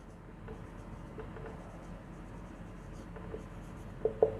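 A pen scratches on paper in short strokes during a sentence exercise, faint and close, with a couple of sharper taps near the end and no talk.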